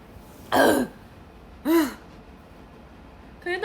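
A person coughs and clears their throat in three separate short, harsh bursts, spaced about a second apart and heard close up, while sambal is cooking nearby.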